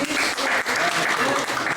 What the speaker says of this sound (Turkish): ben alkış istiyorum